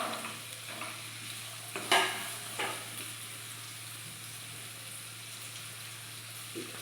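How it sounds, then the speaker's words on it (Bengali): Potatoes, beans and carrots fry in an oiled pan for a vegetarian cheera pulao, giving a steady close sizzle with a couple of brief spoon clinks and no talk. "এটাকে আমি খানিকক্ষণ ভেজে নেব।"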